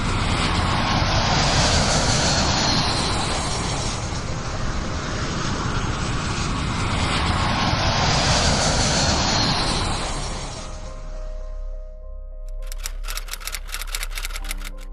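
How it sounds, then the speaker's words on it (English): Aircraft engines roaring loud and steady during landings in strong storm crosswinds at an airport, the wind-whipped roar sweeping and surging, then cutting off abruptly to a low hum and faint clicking. "Multiple planes attempted landings in the chaos, including commercial jets and smaller private aircraft"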